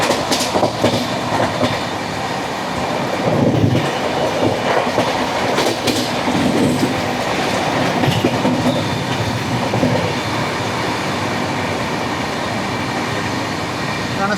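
Onboard an express train passing non-stop through Sonipat Junction in India, a loud continuous rumble with rhythmic clickety-clack of wheels over rail joints and occasional metallic rattles.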